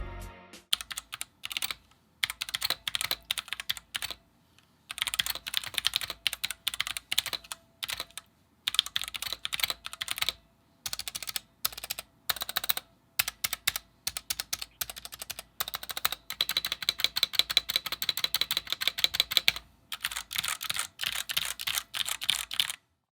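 A Womier WK61 hotswap mechanical keyboard, stock out of the box, is typed on in continuous bursts of rapid, close clicky keystrokes with short pauses between runs, sounding hollow and pingy, with no talking.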